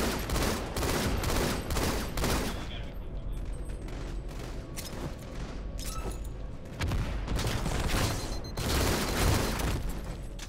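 Gunfire in the video game Halo 2 Anniversary, ranked multiplayer: dense bursts of rapid shots and booms in clustered volleys, loud and continuous, with brief lulls between flurries.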